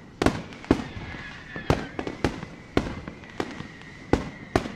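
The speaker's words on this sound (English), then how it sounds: "I have like a muted clip of the fireworks" Fireworks bursting outdoors at night, a string of about ten sharp cracking pops spaced irregularly roughly every half second, each with a brief trailing crackle, moderately loud with no talking.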